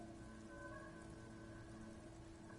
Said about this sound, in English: Droplets of rain fall on the wooden planks, the surrounding sand dunes.